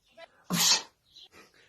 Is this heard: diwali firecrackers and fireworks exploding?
no